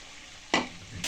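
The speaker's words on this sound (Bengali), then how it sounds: "এবার এই ভাজা আলুটা আমি দিয়ে দিলাম" Fried potatoes dropped into frying chicken curry, a sudden loud sizzle close up after quiet, followed by a second burst of hot-oil hiss as they are stirred.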